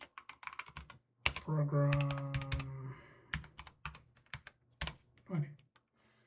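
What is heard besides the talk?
typing on a computer keyboard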